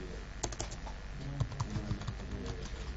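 Rapid computer keyboard typing as an SQL insert command is entered, a close run of crisp clicking keystrokes over a few seconds with no talk.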